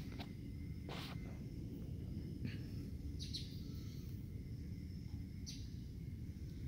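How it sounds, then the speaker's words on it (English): Birds singing in a quiet park, a few faint, scattered chirps and short calls standing out over a low, constant background rumble. "I like to hear the birds singing."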